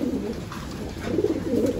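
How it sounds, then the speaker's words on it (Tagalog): A racing pigeon in a loft gives soft, low cooing calls, faint and close, over quiet background noise. "Ang gandang ibon na to, Boss Jay."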